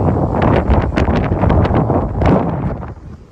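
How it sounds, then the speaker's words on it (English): Strong wind on a beach at Tybee Island, Georgia, buffets the microphone in loud, continuous gusty rumbles and flutters throughout. "y'all need to see how windy it is out here"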